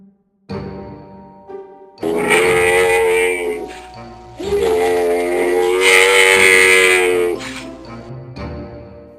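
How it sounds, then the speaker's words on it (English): A camel grunts and groans in long, loud, throaty bursts at close range, with a harsh, rasping tone and short pauses between calls. "Can you guess? It's a camel."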